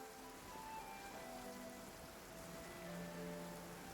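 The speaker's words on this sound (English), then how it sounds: "I know, it's raining a lot." Steady rain in a video game, a soft continuous patter of drops on surfaces, faint and even throughout with a few tonal game sounds faintly layered underneath, no speech.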